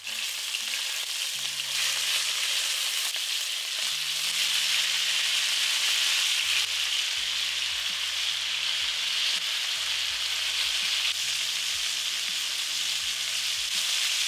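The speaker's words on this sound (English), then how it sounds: "Once the oil is hot, start browning the beef." Beef browning in hot avocado oil in a pot, a loud, steady close-up sizzle and crackle that never lets up, with occasional low clunks and scrapes of a utensil stirring.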